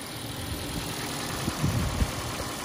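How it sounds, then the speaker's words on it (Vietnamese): Used car engine idling from cold, running a little loud, a steady low rumble with a few soft knocks near the end; no talk over it. "Hiện tại máy đã nổ rồi, các bác có thể nào mình lắng tai mới nghe tiếng máy luôn đúng không ạ?"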